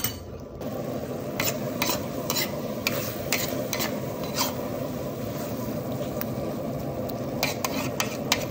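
Tomato chili sauce with chili oil sizzles steadily in a pan while a utensil stirs it, with repeated light scraping and clinking strokes against the pan.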